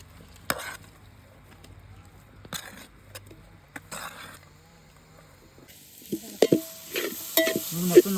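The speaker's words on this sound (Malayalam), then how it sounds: "മൊത്തം ഇളക്കി കൊടുക്കുന്നുണ്ട്." A spoon stirs a tender jackfruit stir-fry with pepper in a pan, giving a few sparse scraping strokes over quiet background. Then a steadier sizzling hiss takes over, with sharper clinks and scrapes near the end.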